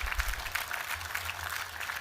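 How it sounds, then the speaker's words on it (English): Audience applause at a 2022 Melbourne university graduation ceremony for Education, Health and Design, a steady wash of many hands clapping that fills the hall with moderate loudness throughout. "Can we have a round of applause for all the family and friends that helped make it happen?"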